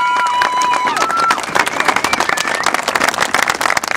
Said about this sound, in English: Give yourselves a round of applause for coming out here this morning.